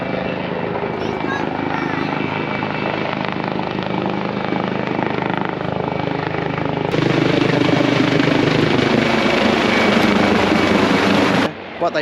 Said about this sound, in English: The chopper's here now.